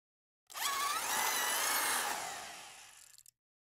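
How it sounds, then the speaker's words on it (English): A power drill whines steadily for about three seconds while drilling a hole in a water tank, starting abruptly and cutting off, close up and fairly quiet with no voices. "drill a hole at that height"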